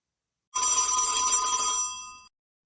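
A telephone bell rings in a radio play, one continuous burst of bright metallic ringing lasting under two seconds, loud and close, that stops abruptly before any voice comes in.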